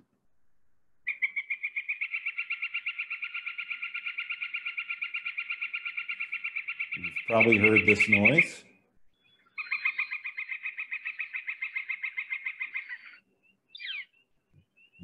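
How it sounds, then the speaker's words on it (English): A woodpecker repeats a rapid series of high, rattling calls in two long bursts, with a brief voice speaking partway through. "It's pretty clear that this is some sort of woodpecker."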